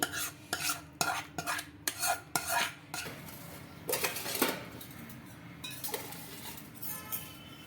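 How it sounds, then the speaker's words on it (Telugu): Tomato chutney is spooned from a cooking pot into a bowl: a quick series of sharp metallic scrapes and clinks of spoon against metal, close up, easing into softer scraping. "ఒక గిన్నెలకైతే వేసుకుంటున్నానండి"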